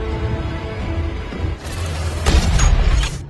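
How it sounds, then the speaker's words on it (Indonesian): Grenade launcher firing in an action film scene, with a mechanical clank followed by a deep booming blast and crackling debris, loud and close, with no speech over it. "Herting pun mengambil senapan granat dan mulai menembaki Ray."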